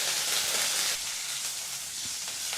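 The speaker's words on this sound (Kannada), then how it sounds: "ಜಜ್ಜಿದಂಥ ಬೆಳ್ಳುಳ್ಳಿ, ಹಾಗೆ ಸ್ವಲ್ಪ ಕರಿಬೇವಿನ ಸೊಪ್ಪನ್ನು ಹಾಕಿ ಈಗ ಇದನ್ನು ಒಂದು 30 ಸೆಕೆಂಡ್ ಫ್ರೈ ಮಾಡಿಕೊಂಡ್ರೆ ಸಾಕಾಗುತ್ತೆ" Crushed garlic and curry leaves frying in hot oil for a jeera rasam, giving off a steady, close, loud hiss and sizzle with no one talking.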